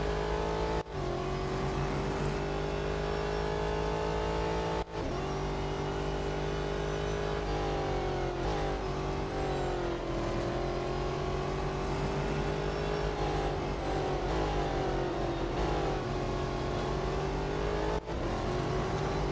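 Race cars in the mobile racing game Real Racing 3 give a loud, continuous high engine whine during a multi-lap race, rising and falling with gear shifts, and several sharp brief dropouts break the sound.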